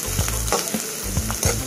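Chopped onion and two green chilies sizzle in hot oil for a bottle gourd pachadi, a steady close frying hiss broken by stirring scrapes and soft clatter, with no voices.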